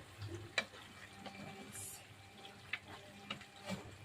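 Liver frying for Ilocano igado, stirred in a pan with a soft ongoing sizzle and a few faint scraping clinks, fairly quiet, with no talking.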